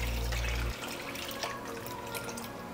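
Water runs into a cooking pot to cook rice in a kitchen, a faint steady trickle after a brief low rumble at the start, heard alone with no talking.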